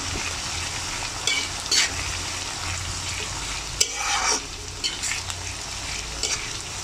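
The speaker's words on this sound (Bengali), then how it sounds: "আমি এখন এগুলো বেরেস্তা করে নিচ্ছি" Sliced onions salted and frying in a wok of oil to make crispy fried onions for chicken biryani, with a soft continuous sizzle and a few scattered stirring scrapes and clinks.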